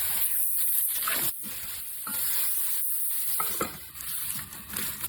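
Vegetables with tomato and eggplant sizzling steadily in a hot pan in a village kitchen, while a spatula stirs and scrapes them in repeated close strokes.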